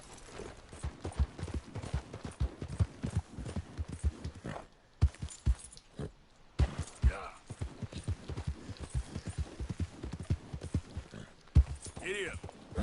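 A horse's hooves clip-clop in a quick, regular rhythm in Red Dead Redemption 2, close and clear, with short gaps and a faint whinny near the end, under speech.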